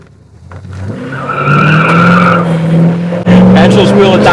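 A 1970 Chevelle with a modified 350 engine accelerates hard, its tires squealing in a rising, sustained screech over a loud engine roar, close by.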